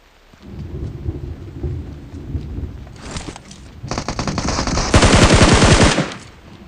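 Automatic gunfire bursts in the PUBG Mobile battle royale shooter, a rapid, loud string of close rifle shots building toward the end, with no voices over it.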